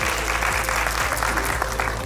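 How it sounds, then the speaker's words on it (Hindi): Enthusiastic audience applause at an awards ceremony for institute achievers, a dense continuous wash of many hands clapping at once, steady and full, with no talk over it. "प्लीज जोरदार तालियां इनके लिए।"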